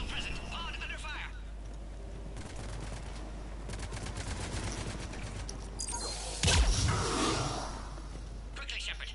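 Sustained automatic gunfire and bursts of battle noise in a Mass Effect 3 combat sequence at the Sur'kesh checkpoint, loud and continuous with a heavier crash or blast near the end, under game voice lines.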